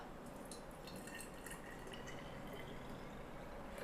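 Thai tea poured from a measuring cup into a 300 ml bottle, a soft, continuous liquid trickle and filling gurgle, quiet and close.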